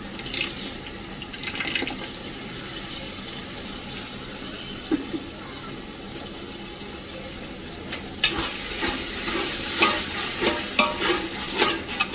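Mutton biryani base in the pot: about 200 grams of yogurt stirred into sautéed mint masala, a continuous wet scraping and sizzling with spoon strokes that grow louder and more vigorous in the second half, no talking.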